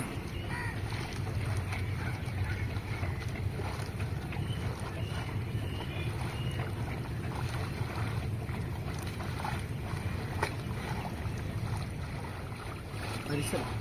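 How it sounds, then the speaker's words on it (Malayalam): Steady water and wind noise from a small paddled boat out on the Cauvery river, with a continuous wash of movement and no clear voices. "കൊച്ചു കൊച്ചാ വള്ളം തുഴയുന്നേ"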